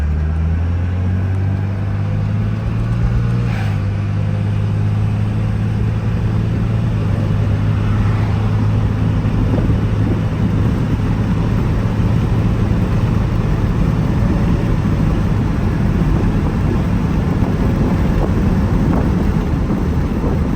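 A 1999 RAM 2500 Cummins diesel pickup downshifts and accelerates, heard from inside the cab as a deep, steady rumbling drone with a low, even roar that holds strong throughout.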